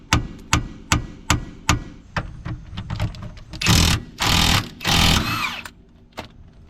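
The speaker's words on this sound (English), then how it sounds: "We're also going to break this bolt loose." Loud wrenching on a stuck coilover suspension bolt of a turbocharged Honda Civic: a rapid series of sharp metallic impact clacks, then three long harsh ratcheting bursts, ending in a few quieter clicks.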